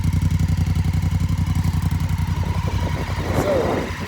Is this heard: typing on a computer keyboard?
no